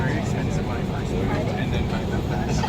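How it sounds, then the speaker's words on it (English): Steady, loud engine drone fills a small aircraft cabin, a constant low rumble and hiss with no breaks. "it's only a small plane."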